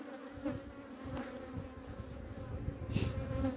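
Honey bees buzz steadily at a spring beehive as a dense, continuous close-up hum with a few brief louder swells as individual bees pass nearby.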